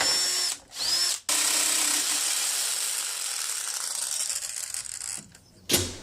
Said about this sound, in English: I have a hole saw that I'm going to drill with, but I'm actually going to drill a little bigger than I need